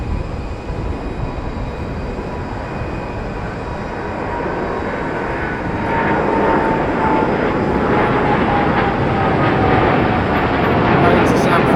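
An American Airlines Dreamliner airliner at London Heathrow produces a broad jet rumble that grows louder partway through and stays strong, with a faint whine above.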